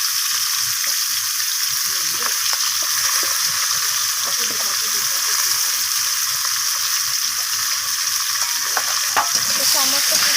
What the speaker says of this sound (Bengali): এখন আমি এর মধ্যে দিয়ে দিলাম একই তেলের মধ্যে কেটে রাখা পেঁপেগুলো।